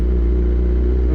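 A very loud motorbike engine roars steadily at close range, a dense, continuous low rumble with no pauses or voices.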